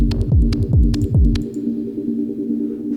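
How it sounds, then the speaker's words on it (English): Two synth arpeggios playing a minor chord on filtered saw waves in a techno track, heard dry as rapid repeating plucked pulses over a steady sustained drone, loud and alone. "it's two arps. So that's a minor chord, saw wave, filtered saw wave."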